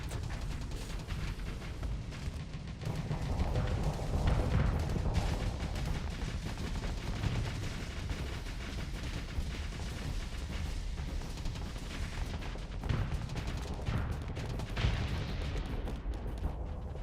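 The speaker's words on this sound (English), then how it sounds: "Ah, missiles! Oh, did my ship get blown up?" In the space game Starsector, missiles explode in a dense barrage of booms and crackling blasts that rumble on steadily, some bursts close, others further off.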